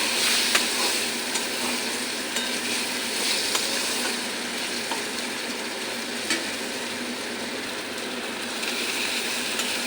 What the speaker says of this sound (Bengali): এখন ভাজা ভাজা করে নি